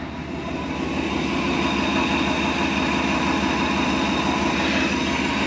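A 1994 Chevrolet Silverado 2500 pickup idles with a steady, low, droning rumble, recorded close to the engine and unbroken throughout with no voices.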